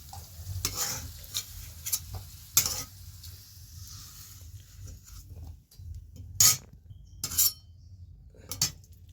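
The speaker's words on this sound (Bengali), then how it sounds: "এই যে সুন্দর আলুগুলো লাল লাল করে ভেজে নিয়েছি" Potatoes fried with turmeric crackle and sizzle in a pan, a steady close frying hiss broken by several sharp metal clinks of a spatula against the pan.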